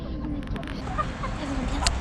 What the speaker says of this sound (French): Allez, on sort les petites poules.